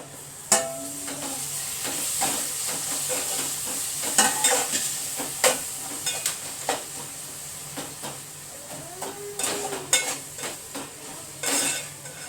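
Tomato-laden curry sizzles and hisses steadily in a pan while a spoon stirs it, scraping and clinking against the metal in irregular bursts, close and moderately loud with no talking.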